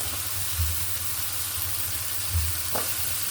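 Sweet potatoes frying in a pan: a dense, even sizzle with a low rumbling undertone and a couple of soft stirring thumps, close and moderately loud throughout.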